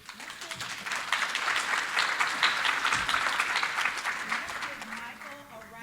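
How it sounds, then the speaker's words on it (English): Applause from a conference audience at a CES AI House panel, a steady dense patter of many hands clapping throughout, fairly close and sustained without letup. "A round of applause."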